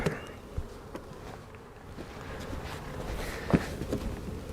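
Honey bees hum in a low, continuous drone around an open beehive with nurse bees and brood frames, close but quiet, with faint knocks and handling noises rising now and then.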